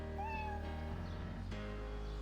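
A cat meows in the game League of Legends, a short rising cry near the start, faint under the steady game sound and background music.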